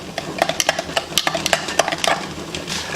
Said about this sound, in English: Now we want to constantly keep on stirring it until everything is pretty much melted